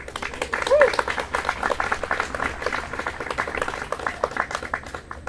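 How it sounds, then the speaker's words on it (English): Graduation ceremony audience applauds, a steady patter of many hands clapping with voices audible underneath, continuing at moderate loudness for several seconds. "So give them a round of applause, please."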